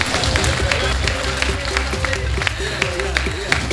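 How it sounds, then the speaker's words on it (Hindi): An audience claps along in a rhythmic burst, dense overlapping hand claps under loud voices and background music, continuous and fairly close. "ताली बजाकर खोलिए साहब"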